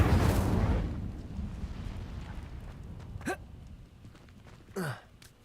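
A fiery spell is cast in Hogwarts Legacy: a soft breathy whoosh opens, followed later by two short rising magical bursts that crackle briefly against quiet game ambience.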